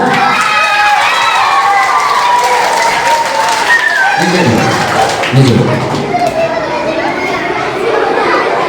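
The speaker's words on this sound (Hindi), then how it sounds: "जोर से ताली बजाओ ऊपर।" Loud applause from a group of children in a classroom or gathering, a dense burst of clapping mixed with young voices and chatter, with an adult voice speaking over it.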